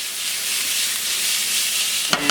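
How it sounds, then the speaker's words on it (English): Onions and pork mince fry and get stirred in a pan, a steady broadband sizzle running throughout at close range, with a brief clatter of the spoon near the end. "Got those onions all softened up, and added the package of meat. So we're just gonna get those all blended together and browned."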